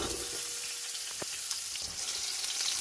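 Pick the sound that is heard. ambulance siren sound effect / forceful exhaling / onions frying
onions frying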